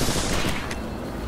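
Rapid gunfire in the battle game Apex Legends, a dense, continuous stream of overlapping shots that stays loud and steady throughout the short burst.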